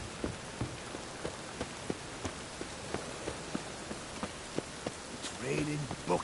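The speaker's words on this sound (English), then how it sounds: "It's raining buckets." Heavy rain hisses continuously in a PS4 video game, punctuated by regular soft thuds like footsteps, with a brief voice-like sound near the end.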